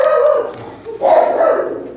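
A pet dog indoors in a home kitchen barks and whines at a delivery, with two sustained, loud bursts of vocalizing separated by a short pause.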